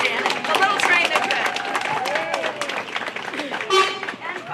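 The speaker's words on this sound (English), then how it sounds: "We have a round of applause for Janet" Audience applause at a civic celebration with the mayor and a supervisor marking a new North Beach citizens' home: steady clapping from a crowd, mixed with cheers and voices, fairly close and sustained throughout.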